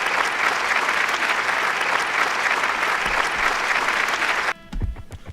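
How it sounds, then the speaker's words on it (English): A short round of applause rises as a dense, loud, steady clatter of many hands, then cuts off abruptly near the end, after which a voice begins speaking. "Let me get in a little round of applause if we can."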